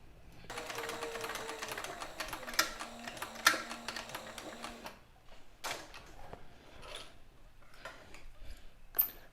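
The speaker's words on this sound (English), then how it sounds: "I'm going to sew just on the inside of this lid." Sewing machine stitches along the inside of a leather swell bag lid for a saddle, a steady mechanical whir running for about four seconds, then stopping, followed by scattered handling clicks and rustles.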